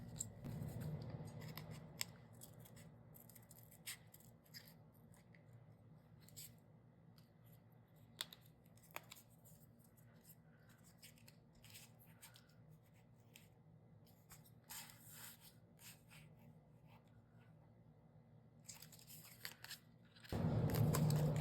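Scissors snip and trim a coffee-stained paper leaf inside a reading journal, cutting bit by bit in close, crisp repeated cuts over a quiet room, with a louder rustle at the end.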